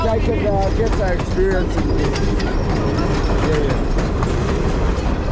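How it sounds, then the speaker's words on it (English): A long train in a Nairobi train yard rumbles and clatters steadily with squealing wheel tones, loud and continuous, while someone talks over it. "This is a train we need now to Kiaga."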